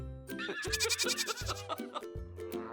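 A goat gives a series of wavering, nasal bleats in quick succession, close and clear, with no other sounds around it.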